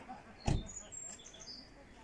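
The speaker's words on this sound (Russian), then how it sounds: "Птички поют." Small birds chirp faintly in the distance outdoors on a mild day near a seaside bay, with a brief louder knock or thump early on and soft tonal chirps scattered across the background.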